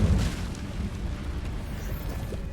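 Incendio fire spell cast in Hogwarts Legacy, a soft whooshing burst of flame that flares at the start and then fades into a low, rumbling crackle.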